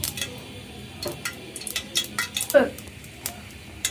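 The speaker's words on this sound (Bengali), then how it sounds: "চিংড়ি মাছটা রান্নার জন্য আমি এখানে দিচ্ছি" Shrimp dropped into a cooking pot for a taro and shrimp curry, a series of sharp metallic clinks and taps of utensil against pan, close and irregular, with a voice talking alongside.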